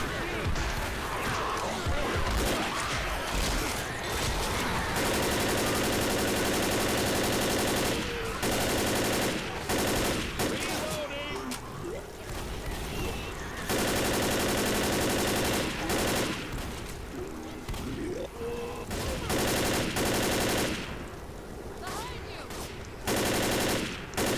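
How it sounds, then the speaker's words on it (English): Sustained machine-gun fire in Left 4 Dead, long dense bursts rattling almost without pause across the whole stretch, loud and close, with shouted player talk over it and brief gaps between volleys. "Now's when I need to be on the goddamn machine gun"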